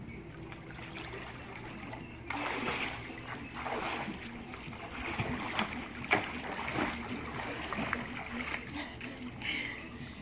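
A child swims underwater in a swimming pool, stirring up a steady wash of splashing and churning water that runs throughout at moderate level, with muffled voices faintly in the background.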